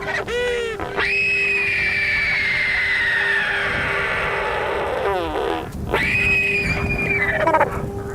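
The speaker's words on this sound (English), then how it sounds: "he points his head straight into the sky and makes that amazing screaming noise" Loud, drawn-out screaming sky calls from an albatross with its head pointed straight up, a long wavering cry followed by a shorter one, close and dominant over a steady background hum.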